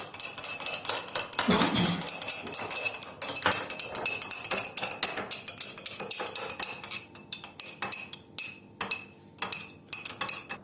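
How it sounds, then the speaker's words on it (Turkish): A spoon clinks and scrapes steadily against the sides of a glass while milk is stirred into two spoonfuls of yogurt for Kolot cheese, close and rhythmic, with a few louder knocks and a brief pour early on. "Şimdi içine süt alıyoruz. Güzelce karıştırıyoruz."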